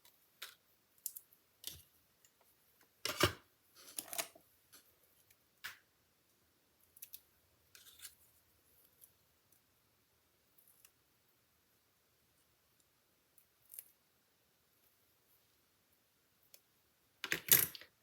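Small scissors snip card-making embellishments in half, giving sparse, quiet crisp clicks and snips with long silent gaps and a louder cluster of cuts at the end.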